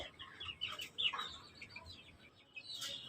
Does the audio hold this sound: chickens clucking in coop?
yes